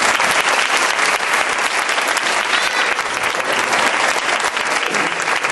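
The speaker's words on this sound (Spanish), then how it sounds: "Este abrazo se merece un fuerte aplauso" Strong, close clapping from a theatre audience at a comedy magic act, a dense unbroken burst of applause lasting several seconds at full volume.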